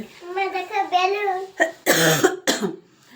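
A child with a cough speaks briefly, then coughs in three harsh, close bursts.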